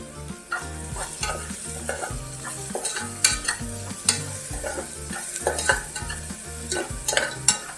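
Brinjal pieces being stirred into a baby's kichadi in a pan, with repeated scraping strokes of a spoon and a soft sizzle close by, no voices.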